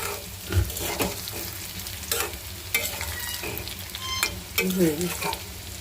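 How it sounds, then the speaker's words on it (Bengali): Fried eggplant and onions are stirred in a pan, with a steady close sizzle under irregular scrapes and clinks of the utensil, loud and continuous without speech. "পেঁয়াজ দিয়ে বেগুনগুলোকে একটু নাড়াচাড়া দিয়ে নামিয়ে ফেলব।"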